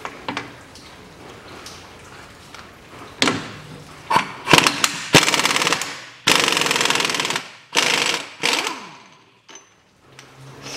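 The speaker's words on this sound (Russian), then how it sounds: "Гайка на 32. Попробую пистолетом." Impact wrench loosening a 32 mm nut while a front CV joint is replaced on a 1993 Mitsubishi RVR N28W, with loud rattling hammering bursts of varying length, close up, separated by brief pauses.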